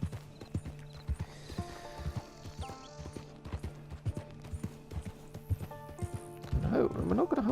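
A horse is ridden along a path in the Red Dead Redemption Online video game, its hooves clip-clopping in a steady rhythmic gait, near and fairly loud, with a whinny and a few neighs, the last one a louder burst at the end.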